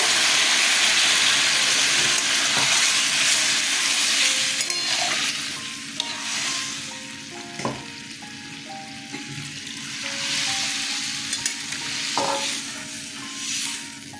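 Water splashes into a sautéed spice mixture in a pan, cooking gobindobhog rice with gathi kochu, with steady sizzling and scraping stirring strokes close up, the hiss easing as the liquid settles.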